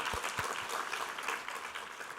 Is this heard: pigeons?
no